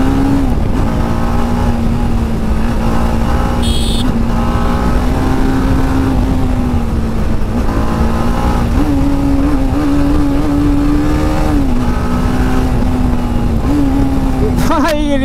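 BMW motorbike with a titanium aftermarket exhaust, idling loud and close with a deep steady drone and several short revs, while someone talks over it.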